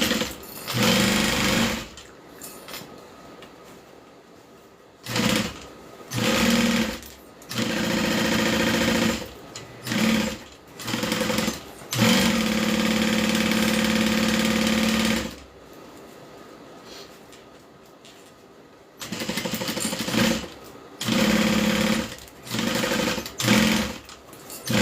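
A sewing machine stitches a Kiana bag in repeated bursts of rapid mechanical whirring, some short and some held for several seconds, separated by quiet pauses.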